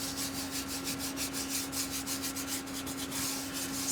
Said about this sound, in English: smearing this out and rubbing this in with my finger